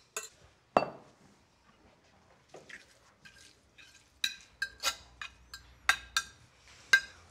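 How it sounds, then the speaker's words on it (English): Pork and onions stirred in a cooking pot, a series of sharp metallic clinks and scrapes of a utensil against the pot, spaced irregularly with several close, crisp knocks toward the end. "Let's give that a stir."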